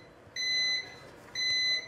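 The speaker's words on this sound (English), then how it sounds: "Yes, more beeps. The waffle is done." Two long electronic beeps from a VillaWare waffle maker, each a steady high tone lasting about half a second, separated by a short pause.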